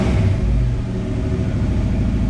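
A 1965 Ford Fairlane 500's 289 V8, fitted with a Holley Street Warrior carburetor, gets a brief blip of throttle, a loud, close, throaty rumble that swells and then settles back, with no speech.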